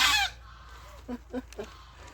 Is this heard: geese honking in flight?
yes